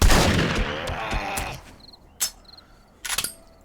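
Shotgun blasts in the video game 7 Days to Die: a loud burst at the start fading off, then two sharp shots spaced about a second apart, with no talking.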